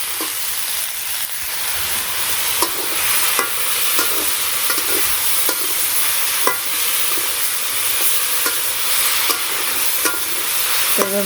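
Taro, potato and ridge gourd stir-fried with spices give a steady loud sizzle, broken by regular scrapes and taps of a spatula against the pan, close up and without talk.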